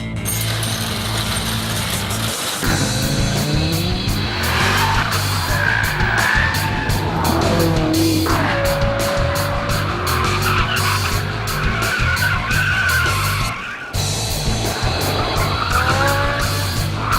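Sports cars pushed hard on a track at a former Marine base: loud sustained tire squeal and skidding over engine roar, with pitch sweeping up and down through corners and brief gaps between passes.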